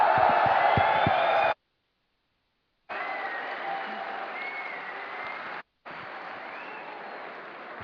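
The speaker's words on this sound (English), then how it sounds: "let's give a cheer for DreamHack SteelSeries LAN 2010." A large crowd at the DreamHack 2010 gaming LAN event in a big hall cheers and applauds loudly in a dense roar with whoops. The sound cuts out twice for brief silent gaps.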